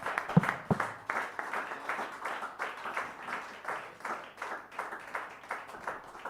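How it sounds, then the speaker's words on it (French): A church congregation clapping along in a rhythmic, pulsing pattern, moderately quiet and steady, with the beats rising and falling in regular waves throughout. "donnez-lui une main d'acclamation."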